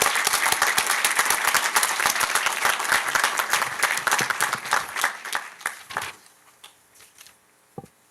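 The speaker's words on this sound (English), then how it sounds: "please join me in applauding these graduates" A commencement audience gives the graduates a long burst of dense applause that thins into a few scattered claps before falling silent.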